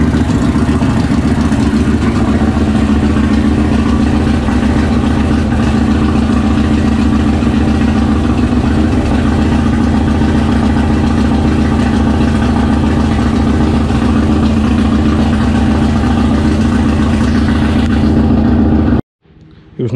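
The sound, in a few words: Kawasaki Vulcan 1500 motorcycle engine running after timing chain replacement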